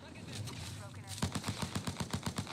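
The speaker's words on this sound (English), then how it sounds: "They're shooting at me." Rapid gunfire in the Apex Legends video game, a steady rhythmic burst of shots in the second half with a voice talking over the start.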